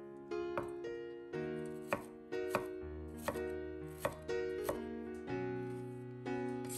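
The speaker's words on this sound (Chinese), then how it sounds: "然后切成小块" A knife chops garlic cloves into small pieces on a board: about eight evenly spaced sharp knocks, close and fairly quiet, over a sustained tonal background.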